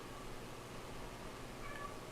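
A cat meowing indoors, a faint, brief call rising over a quiet steady background hum, no talk.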